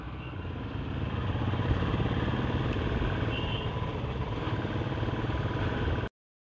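Royal Enfield motorcycle engine running as the bike is parked: a continuous low, thumping rumble, close and steady, cutting off abruptly at the end.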